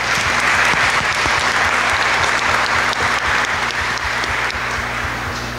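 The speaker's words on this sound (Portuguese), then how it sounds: "vamos nos dar uma salva de palmas de bem-vinda" A church congregation gathered for a solemn religious profession gives a sustained round of applause, dense and loud, steady from start to finish.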